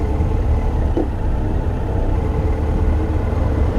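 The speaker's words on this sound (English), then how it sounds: "the traffic's backed up to 300 metres from the roundabout" Road traffic backed up in a queue approaching a roundabout on Hursley Road, with cars and heavier vehicles idling; a steady, loud low-pitched engine rumble continues throughout without letting up.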